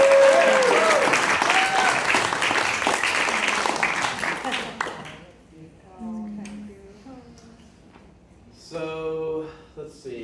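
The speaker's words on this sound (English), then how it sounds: "let's all give a real good round of applause to Ray" An audience breaks into loud, dense applause that fills the room for about five seconds, then thins out and fades while a few voices talk quietly near the end.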